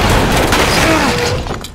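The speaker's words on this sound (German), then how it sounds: "Explosion hier, Geballer da." Explosions and gunfire from the video game Uncharted 2 in a Nepal setting, a loud continuous booming roar with rumbling blasts that eases off at the end.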